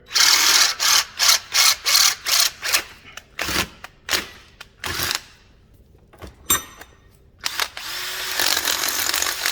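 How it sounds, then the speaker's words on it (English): A power drill whirs in a rapid run of short, regular bursts, then in a few longer pulls, drilling through a bush on an Alfa Romeo GTA, fairly close and with no talking. "hopefully just a quick drilling, it should come through"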